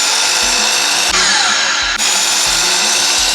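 A power tool cuts out a wooden section of a wall for a floating bench project, with a loud, steady high-pitched whine and short low-pitched bumps at roughly regular intervals.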